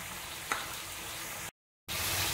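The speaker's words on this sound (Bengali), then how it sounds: "এবারে দেবো ভিজানো ছোলাটা।" Soaked black chickpeas (kala chana) sizzle and fry in a pan for a vegetarian pumpkin sabji. A steady close hiss carries a brief clatter early on and drops out for a short moment near the end.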